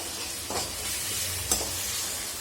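Ginger-garlic masala is stirred as it fries in a pan for a giant prawn malai curry, a steady close sizzle broken by a couple of brief spatula scrapes.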